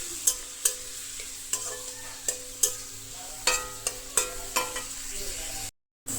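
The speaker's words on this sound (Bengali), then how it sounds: "ঝট করে পেঁয়াজটা ভেজে ফেলি" Onions frying in a hot pan on a gas stove, a steady soft sizzle broken by repeated sharp scrapes and clacks of stirring at close range, no talk.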